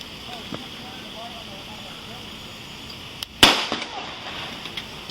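A single loud, sharp gunshot rings out during a police standoff at a Houston motel, followed by an echoing tail and a few smaller pops over a steady outdoor background.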